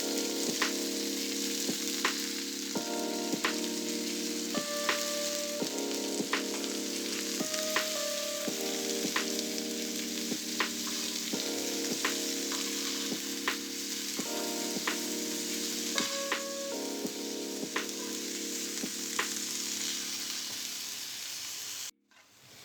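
Sorrel leaves (chukka kura) frying in a little oil in a pan give a continuous moderate sizzle with regular light clicks and taps from stirring, a faint steady hum beneath, and no talking.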